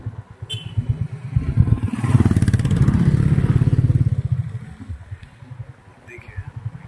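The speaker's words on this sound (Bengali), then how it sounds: "আমরা যাচ্ছি বাইকে" A Bullet motorcycle riding on a mountain road, its engine thumping steadily close by and swelling louder mid-clip before easing back, with a rough clattering undertone.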